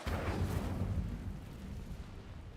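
An Incendio fire spell bursts in a Harry Potter video game, a faint rumbling whoosh that swells at the start and trails off in a low, noisy roar.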